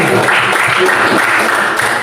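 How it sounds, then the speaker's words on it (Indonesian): Classroom students applaud a group representative, a loud, close burst of clapping from many hands running continuously through the moment. "beri tepuk tangan untuk perwakilan kelompok satu"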